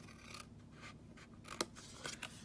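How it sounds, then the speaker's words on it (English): Scissors snip paper tabs on a small handmade box, a few quiet, close cuts with light rustle and a crisp click near the end, no talk. "let's cut up this tab"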